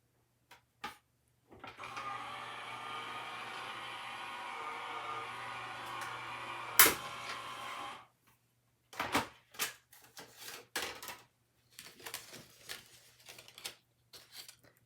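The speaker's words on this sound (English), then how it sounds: "I have an electric die cut machine, so it's a little noisy" An electric die cut machine runs as a steady, fairly loud mechanical hum for about six seconds with a sharp clack near its end, followed by scattered handling clicks and rustles.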